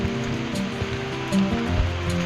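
Heavy monsoon rain pours steadily during a trek at Bhimashankar in the Sahyadri hills, a dense continuous wash of drops with low rumbling swells, loud and close with no voices.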